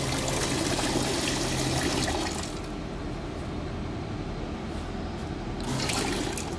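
A two-nozzle Sinparto perfume filling machine with digital speed adjustment purges air from its line until liquid runs out, giving a steady close whoosh of pumping and trickling liquid that eases slightly partway through and builds again near the end.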